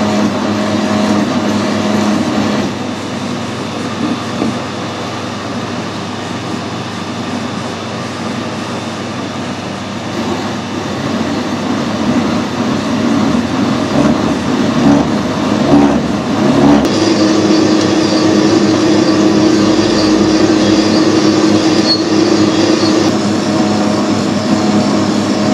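A lathe machining a brass part for a tractor leveling box runs with a steady loud mechanical hum, and a brighter cutting tone joins partway through as the tool bites in, with no talk.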